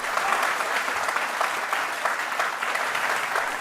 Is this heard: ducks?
no